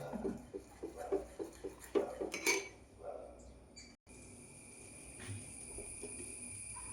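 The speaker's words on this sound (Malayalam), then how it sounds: "ഇതും കൂടി ഇട്ടിട്ടൊന്ന് നല്ലോണം മിക്സ് ചെയ്ത് വെക്കാം" A spoon stirs batter for frying aubergine in a bowl with quick rhythmic taps and scrapes, then the mixing stops and only quiet room noise remains.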